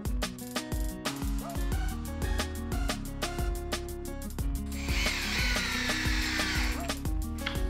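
A power drill bores pocket holes for screws into wood, whirring in short repeated bursts close by, with a rougher grinding stretch midway as the bit cuts through the board.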